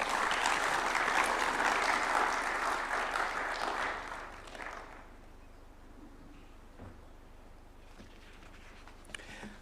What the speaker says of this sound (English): Another round of applause for Zainab.